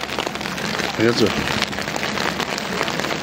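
Rain and sleet fall steadily at Kedarnath as a constant dense hiss, and a voice briefly speaks over it.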